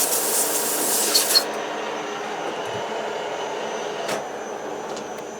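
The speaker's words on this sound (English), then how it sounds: "Just to take any nasty burrs off." A turned metal part on a lathe has its burrs rubbed off, a steady close rasping hiss that stops abruptly, leaving a quieter hum with a faint click.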